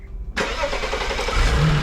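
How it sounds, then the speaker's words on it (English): A BMW E93 335i engine cranks and catches after a brief quiet moment, then settles into a steady, close idle. "start up the engine, hoping not to hear any weird noises or loud knocks."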